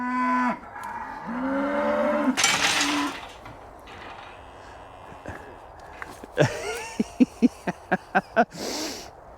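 Cattle on a farm give a long, close moo, and a second deep bellow follows. Later come a few sharp clinks and knocks in a quick series, with no speech.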